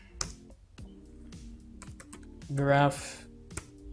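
Close computer keyboard typing while writing PHP class code, a run of quick irregular key clicks with a louder cluster near the middle, under a man's speech.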